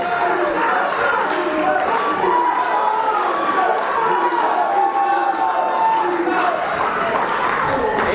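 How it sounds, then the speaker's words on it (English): Wrestling crowd at a UK Wrestling (UKW) show roaring and cheering wildly after a double suplex reversal, a dense, steady wall of voices and scattered clapping that stays loud throughout. "the crowd here at UKW go wild"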